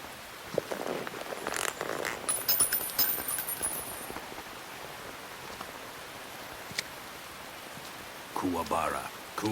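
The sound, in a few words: rain falling in Metal Gear Solid 3 video game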